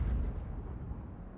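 A tank cannon shot from a Conqueror GC in World of Tanks, a dense low boom that rolls off into a rumbling decay over about a second and a half, heard alone without talk.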